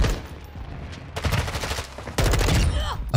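M4 assault rifle fire from the Dragonfly blueprint in Modern Warfare 2, two fast automatic bursts of sharp close shots, the second following shortly after the first, with faint background sound between them.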